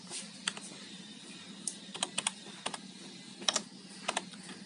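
Amounts being entered on a computer keyboard while filling in an FBR Iris income tax return: irregular bursts of crisp key clicks, close and moderately quiet, over a low steady hum with no talking.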